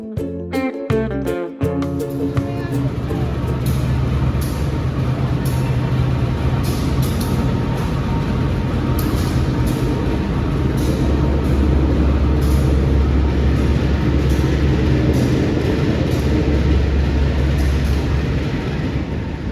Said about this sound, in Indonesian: video part 2 naik kereta api Sri Tanjung kali ini sampai selesai ya